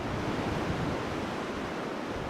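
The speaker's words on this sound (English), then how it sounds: "On Rockaway Beach, if there are waves, there is surf" Ocean surf at Rockaway Beach in New York City roars in a dense, unbroken wash of breaking waves, loud and close, with wind buffeting the microphone and no voices.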